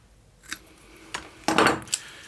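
Scissors cutting leather for armor bracers, a few close crisp snips with one longer crunching cut in the middle, spaced by short pauses.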